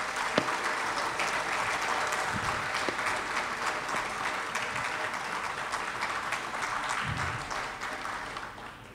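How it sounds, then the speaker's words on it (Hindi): An audience claps steadily and evenly for the whole stretch, welcoming performers who have come from a village near Amritsar. The applause is dense and moderately distant, with no talking over it. "मैं चाहूँगा कि आप भरपूर तालियों से स्वागत करें"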